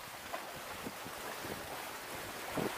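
Ocean waves wash around a solo sailboat at sea in about 15 knots of wind, with a steady broadband rush of wind and water, occasional louder wave surges, and no voices.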